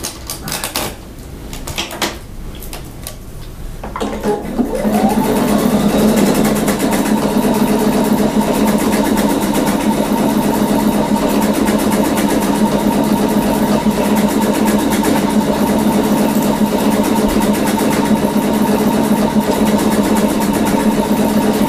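Pfaff Expression 720 sewing machine stitching a decorative scallop stitch; after a few seconds of quiet handling it starts up and runs at a steady, loud, continuous whir close by, with no talking.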